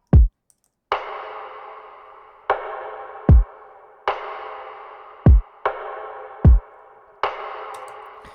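Drums from the first chorus of a pop ballad: deep kick thumps alternate with snare hits that ring out in long reverberant tails, in a slow, spacious groove with no talking.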